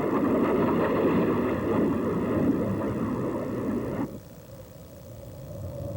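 A Rockwell B-1 strategic bomber produces a loud, dense jet engine roar that holds steady for several seconds and then drops suddenly to a quieter, lower rumble.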